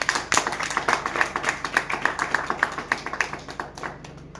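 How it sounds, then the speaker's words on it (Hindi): Audience applause at an Indian business plan presentation, a steady crowd of clapping hands with many distinct claps in a quick, even rhythm, fairly close and loud, fading slightly toward the end, with no talk. "बहुत बढ़िया, एक बार जोरदार ताली।"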